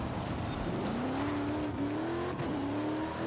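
Range Rover Velar 4x4 luxury off-roader driving in Forza Horizon 5, a steady engine drone rising slightly in pitch as it revs, continuous and close with a constant rumble of tyres beneath.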